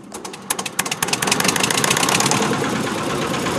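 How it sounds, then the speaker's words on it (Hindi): The small engine of a mixer machine starts with a few sputtering knocks, then settles into a rapid, steady chugging run, loud and close like a tractor motor. "ट्रैक्टर जैसी आवाज़, ट्रैक्टर जैसा इंजन हो"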